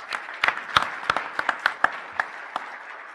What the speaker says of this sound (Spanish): Un aplauso para los ganadores.